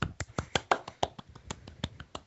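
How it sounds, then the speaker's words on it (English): A few people clap in an uneven burst of sharp, close hand claps, about a dozen spread over two seconds with no talking. "clap"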